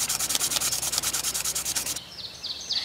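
Fine sandpaper scrubs rust from a pocket knife blade in rapid, rhythmic back-and-forth strokes, close and crisp, stopping abruptly partway through before a few lighter rubs.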